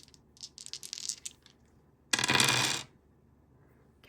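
Dice are rolled by hand: a rapid series of light clicks and rattles, then a louder clattering tumble on a hard surface lasting under a second, close and with no talking.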